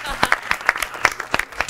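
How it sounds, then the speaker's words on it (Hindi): Brief, scattered clapping from a studio audience on a television game show, a handful of sharp irregular hand claps over a faint background murmur. "तालियां,"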